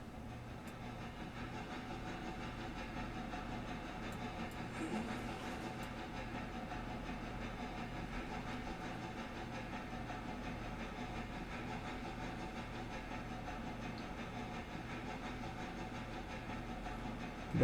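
Train rolling along in the railroad video game Railroader, a steady low rumble and hiss that holds at an even level throughout, with no voices.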